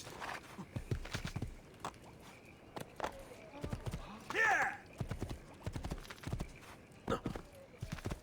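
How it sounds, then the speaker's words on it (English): Horse hooves clip-clop in a steady walking rhythm in the video game Assassin's Creed 2, with a brief whinny midway and someone talking over the hoofbeats. "I need a horse. I need to ride a little horsey."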